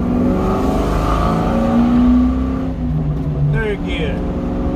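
A manual transmission car accelerates through the gears, its engine note droning and rising steadily before a brief dip at a shift, heard from inside the cabin under continuous talking.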